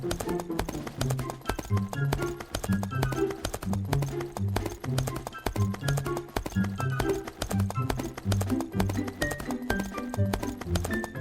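Horse hooves clip-clop in a steady, continuous rhythm close by, carrying on throughout with no talk over them.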